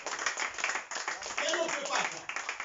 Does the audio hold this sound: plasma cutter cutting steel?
no